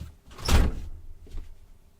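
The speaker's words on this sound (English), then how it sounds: "I'm just going to shut my door because I realised I've left it open, just a crack." An indoor room door at home is swung closed with a muffled whooshing thud, followed a moment later by a softer latch-like knock in a quiet room.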